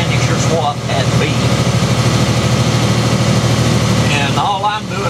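A farm vehicle engine runs steadily as it drives down a road while pulling a BBI spreader, a loud, continuous low drone with someone talking over it.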